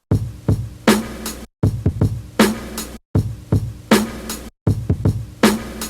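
A chopped jazz sample loop plays four times in a row. Abrupt cuts split each pass, and punchy low hits are rearranged into a repeating pattern.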